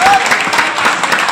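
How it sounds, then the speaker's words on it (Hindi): Audience applause at a seminar in Ranchi, a dense, steady clapping that fills the short moment at full volume with a faint tone riding over it at the start. "जोरदार तालियां बजाइए।"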